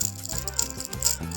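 Crispy fried potato snacks crunch and rattle close by in a brief burst of dry crackling, with no talking.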